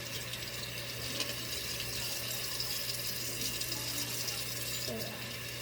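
Tap water runs steadily into a sink while a fidget toy is washed, a soft continuous hiss and splash at low level with slight handling noise.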